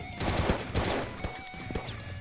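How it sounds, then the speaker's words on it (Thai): Bombs going off in the video game No Tyrant during a raid on a chicken farm: a dense run of overlapping booms and crackling blasts for about two seconds, loud and continuous. "วางระเบิดนี่ค่อยๆบึ้มค่อยๆบึ้ม"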